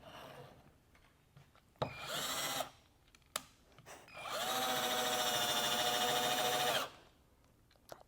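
An electric drill bores into wood in two bursts, a short run and then a longer steady whine lasting several seconds, close up with clicks and handling noise between them.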